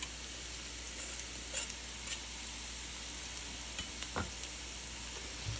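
Three cloves of finely minced garlic sauté in a pan with softened vegetables for Hoppin' John, making a quiet, steady sizzle broken by a few soft scrapes of stirring.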